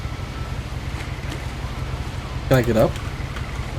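A low, steady rumble of a boat moving over ocean waves with wind noise in the video game What Remains of Edith Finch, and a person speaks briefly over it.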